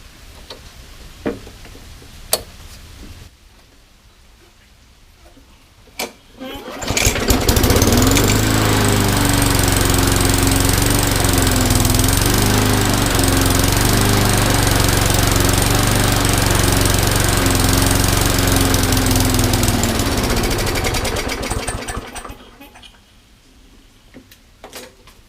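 A small MTD lawn mower engine catches after a few faint taps and knocks, then runs loud and steady for about fifteen seconds with a chugging idle before cutting out and falling quiet.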